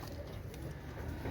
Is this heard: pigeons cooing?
yes